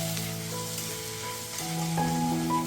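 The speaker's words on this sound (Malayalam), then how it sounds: "അങ്ങനെ ഒരു ഗോൾഡൻ കളറിലേക്ക് എത്തുന്നവരെ തന്നെ ഇളക്കി കൊടുക്കാം" Beef for a roast is stirred as it fries in a pan until golden, giving a continuous close sizzle with soft scraping of the spatula and no voices.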